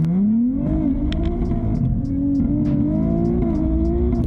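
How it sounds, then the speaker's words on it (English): Nissan Z with upgraded turbos accelerating hard at a drag event, a loud, steady engine roar climbing in pitch with brief breaks at each gear shift, heard up close without talk. "This car is rowdy. Just listen to those shifts."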